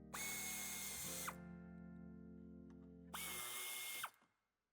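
A cordless power driver backs out two screws from the front of the tailgate on a 2021 Volkswagen Multivan T7, giving two loud, close whirring bursts with a pause between them that wind down to silence.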